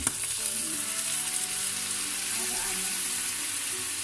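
Chicken gizzard and liver sizzle steadily in a hot pan after a splash of water, a dense continuous frying hiss with faint stirring, close and fairly loud, with no talk over it.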